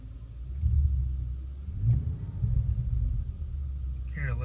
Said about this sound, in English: we're gonna go ahead and do a little revving.